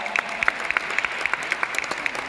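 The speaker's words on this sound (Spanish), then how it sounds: "quiero un aplauso nuevamente para el presidente del condado." Light applause for a county borough president at a Hispanic Heritage Month event in a science hall, sparse, fairly close individual claps in a steady uneven rhythm, brief.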